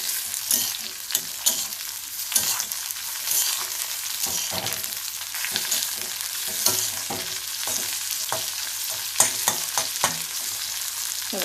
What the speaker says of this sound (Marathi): आता हे बारीक गॅसवरती आपण चांगलं परतून घेणार आहोत